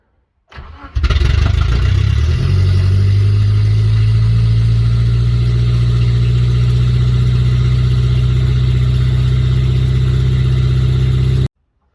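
A Geo Tracker engine cranks and catches, then runs at a loud, steady idle for about ten seconds with a harsh, unmuffled drone from no exhaust before cutting off abruptly.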